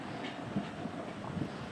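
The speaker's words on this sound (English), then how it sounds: "we have a westbound train coming this way too." A westbound train rumbles along BNSF tracks near construction equipment as a low, steady, fairly distant roar with faint clicks, with no talk heard.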